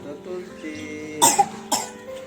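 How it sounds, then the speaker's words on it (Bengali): A child with a cough gives two sharp, close coughs in quick succession after a quiet moment, the bursts loud and abrupt against faint background tones. "তো দেখো কেমন করে কাশছে ও।"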